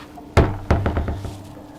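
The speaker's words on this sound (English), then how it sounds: "You can go out the other door." A boat cabin door on an Azimut Seadeck 6 yacht bangs shut with two solid knocks, followed by a short rattling settle of the latch, close by.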